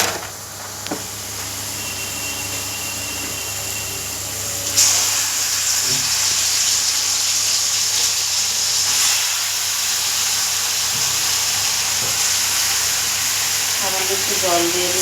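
Previously fried cauliflower goes into a hot pan, where a steady loud sizzle and hiss swells and then continues, with people talking over it.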